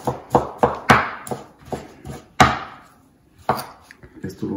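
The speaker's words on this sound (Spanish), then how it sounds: "Déjenme picarle un poco." Broccoli chopped for soup on a cutting board: a quick series of sharp, close knife chops in an irregular rhythm, some harder than others, with a brief pause in the middle and no talking.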